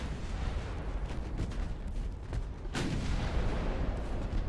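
A heavy torpedo detonation booms in a naval video game, a sharp blast midway over a rumbling backdrop of distant gunfire-like thuds, with no talk.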